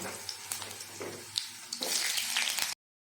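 Potatoes dropped into hot mustard oil with five-spice seeds in a wok, a steady broadband sizzle that swells louder near the end before cutting off abruptly, with no talk.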